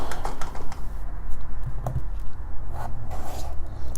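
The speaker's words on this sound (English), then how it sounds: "Now let's cut the potato into pieces." A knife chops a peeled potato into medium-sized pieces on a board for Indian aloo gobhi. The cuts sound as quick, close, rhythmic taps with no talking.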